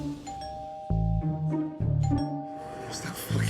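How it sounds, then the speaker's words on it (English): A restaurant doorbell rings out a clear two-tone ding-dong chime several times in a row, loud and close, with voices and kitchen bustle underneath. "What's that fucking doorbell that keeps on going off every 2 minutes?"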